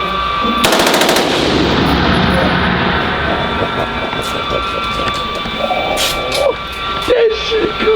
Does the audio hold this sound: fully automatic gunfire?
yes